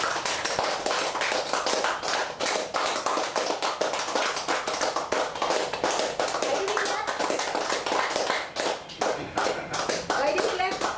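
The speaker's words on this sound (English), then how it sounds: "now we do some clapping" A group claps hands together during an energy healing exercise, producing dense, rapid, steady slaps that keep going loudly for the whole stretch, with a few voices faintly mixed in.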